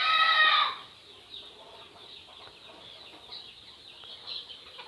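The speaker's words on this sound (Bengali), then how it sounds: "অন্য অন্য মুরগিগুলো হচ্ছে যে এখানে ঘোরাঘুরি করতেছে" Hens roaming a small poultry yard let out one loud clucking call at the start, followed by faint, scattered clucks and quiet scratching in the background.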